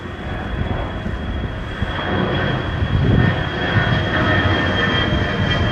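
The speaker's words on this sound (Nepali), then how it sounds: "ल मेरो माथि प्लेन आइरहेछ।" An airplane passes overhead near the aircraft maintenance area at Hong Kong International Airport, a steady broadband engine roar with a high whine that swells slightly toward the middle and stays loud throughout, no voices.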